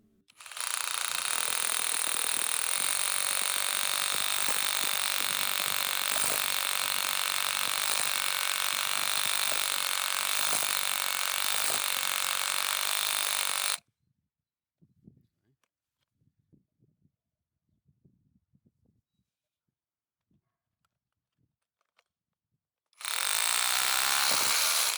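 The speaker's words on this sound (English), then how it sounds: "We are first drilling into some stone using first step 1 and then step 2 for max speed." A loud Parkside Performance PKHAP 20 Li B2 cordless hammer drill grinds continuously into stone for several seconds, stops into near silence with faint clinks, then starts up again.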